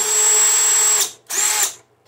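A power drill removing bolts from the top cover of a Toro Super Recycler lawn mower whirs at high speed for about a second, stops, then spins again briefly before winding down, close and loud.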